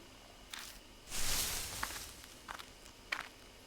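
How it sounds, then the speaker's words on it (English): Footsteps crunch through bushes along a gloomy wooded hiking trail in the horror game Spirit Hunter: Death Mark, a few close, soft rustling steps with one louder brushing burst, heard alone. "there are footsteps close by"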